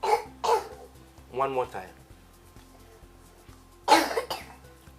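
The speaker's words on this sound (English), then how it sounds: "Can you cough for me? Just cough." A person gives several short, harsh coughs in separate bursts, and a voice speaks briefly between them.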